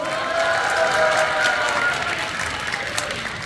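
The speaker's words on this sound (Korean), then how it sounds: "큰 박수로 환영해 주십시오" A crowd applauds to welcome the regional table tennis association president at the opening ceremony of the 2022 Pocheon national open table tennis tournament, a steady, moderately loud wash of clapping across the hall for a few seconds.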